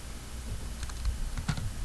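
Computer keys clack in short, irregular bursts of taps at close range, a few quick clusters of keystrokes over a faint room hum, with no voice.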